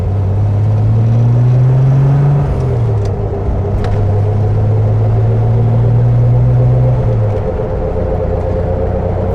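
A 1973 Triumph TR6 with an original engine configuration drives along, its engine droning steadily with rising and falling pitch as it pulls through the gears, loud and close over continuous road rumble.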